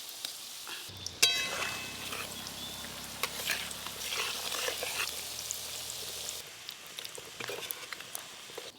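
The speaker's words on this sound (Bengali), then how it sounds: "আবার 1 খোলা ডালের বড়া ভাজা হয়ে গেল" Dal pakoras (lentil fritters) deep-frying in hot oil, a steady close sizzle that swells after a batter drop and keeps crackling, with occasional stirring clinks.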